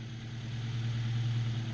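A Suzuki Sidekick's 1.6-liter eight-valve four-cylinder idles steadily with a low, even hum, close by and fairly quiet, with no voices.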